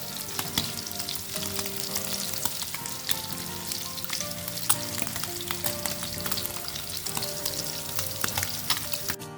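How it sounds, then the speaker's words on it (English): Fish fillets fry in a hot pan with a steady, dense sizzle and crackle, broken by occasional sharper pops and faint clinks. No one speaks, and music sits softly beneath the frying throughout. "As you can see, I've started to fry my fish."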